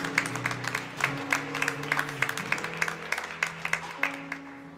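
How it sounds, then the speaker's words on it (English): A congregation at a university chapel service claps along in a steady rhythmic beat, the sharp claps carried over a sustained musical drone. "Can we clap our hands this morning and give God praise?"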